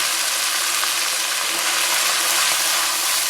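Garam masala, coriander powder, roasted cumin, red chilli powder and salt mixed in a hot pan for seekh kabab biryani, a loud, constant hissing sizzle with no breaks, close up.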